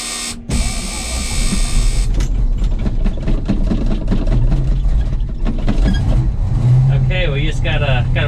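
An old Ford grain truck's engine cranks on a cold start, a loud uneven mechanical chatter with a few firing bursts, close by, while someone talks over it.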